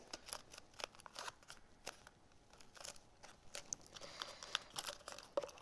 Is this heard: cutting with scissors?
yes